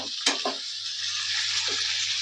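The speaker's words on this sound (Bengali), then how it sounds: "একসঙ্গে ভেজে নিচ্ছি আগে টমেটো ক্যাপসিকামগুলো আর পেঁয়াজটা" Tomatoes, capsicum and onion frying together in a pan for a fish curry, giving a steady, close hiss of sizzling oil with a few brief stirring knocks near the start.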